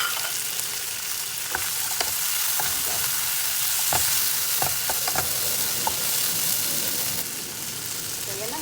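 Dried anchovies (dilis) frying in a pan, a steady close sizzle with scattered sharp crackles and stirring clicks, sautéed for ginisang mongo with ampalaya leaves.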